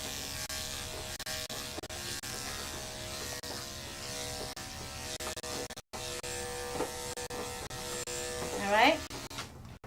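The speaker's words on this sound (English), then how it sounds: "Just having the clipper do most of the work for me." Electric clippers trim a poodle's legs, a steady close buzzing hum running throughout while a person speaks briefly over it.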